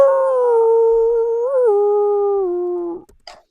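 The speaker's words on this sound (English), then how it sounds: "this kind of like pained howl in the background" A long, pained howl holds steady at a high, wavering pitch, dips briefly and then slowly falls away before stopping, loud and clear with nothing else behind it.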